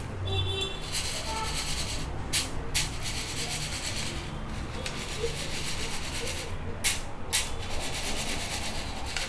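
Roasted peanuts rubbed inside a metal slotted ladle to loosen their skins, a close, continuous gritty rasping and scraping with brief dips in intensity.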